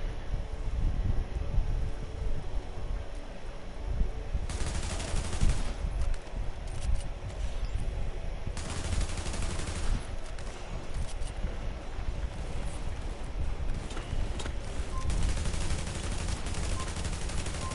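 Video game gunfire from enemies armed with shotguns, heard as long stretches of dense, continuous shooting with repeated loud surges over a steady noisy background.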